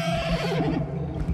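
Horse in a Western game gives one close, loud whinny lasting about a second, wavering and fading at the end, with no talk over it.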